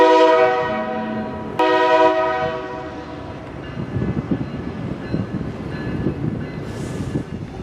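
A horn on an industrial freight train blares twice, long and loud, at the Douglas Road grade crossing in Miami. Rolling wagons then rumble and clatter steadily past at close range.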